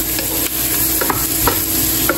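Carrots stir-fried in a pan crackle and hiss loudly up close, with repeated scraping strokes of a spatula against the pan over a constant sizzle.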